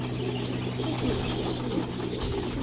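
Pigeons feeding in a loft, soft cooing and pecking over a steady low hum of background noise, continuous and close.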